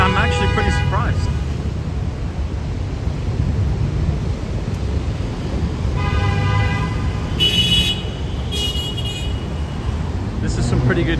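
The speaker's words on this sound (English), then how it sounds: "This is some pretty good New York City white noise for everybody." Steady roar of Upper East Side New York City street traffic beneath the Roosevelt Island tramway, with car horns honking in short bursts near the start and again toward the end, under a continuous wash of passing vehicles.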